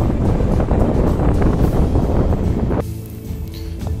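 Strong roaring wind on the winter summit of Kościelec in the Tatra mountains, a loud steady gust buffeting the microphone that drops abruptly to a quieter rush near the end.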